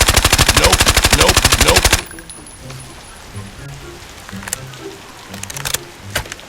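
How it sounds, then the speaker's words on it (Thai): Automatic rifle fire in the video game Arena Breakout: a loud, rapid sustained burst for about two seconds, followed by quieter in-game footsteps and clatter. "ผมก็เลยลุกขึ้นไปยิงนะครับทุกคนคอยดูนะครับ"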